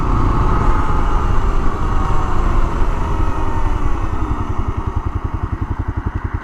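A Honda XL500 motorcycle rips through a park, its engine loud and steady under hard throttle, then settling into a slower, distinct pulsing thump as it eases off, with rushing wind noise throughout and no talking.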